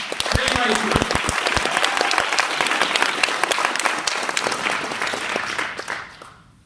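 Loud round of applause from a debate-show audience, dense clapping with a few sharp individual claps standing out, sustained for several seconds before fading out at the end; faint voices underneath.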